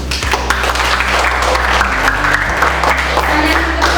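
Steady classroom applause from a group of students during a civics lesson on Pancasila, a dense continuous patter of clapping that fills the room for several seconds with a low hum underneath.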